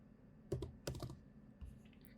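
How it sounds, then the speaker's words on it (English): Fingers type a client name on a computer keyboard in a few quick, quiet clusters of clicks separated by short pauses. "you can just type in part of that client name"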